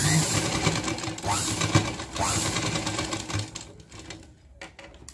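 A sewing machine runs in quick bursts while stitching through a tassel cord, its steady mechanical whir stopping and starting a few times before fading out, with no voices.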